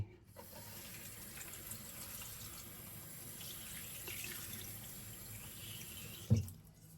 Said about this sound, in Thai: ต่อจากนั้นยายสิก็จะแช่น้ำ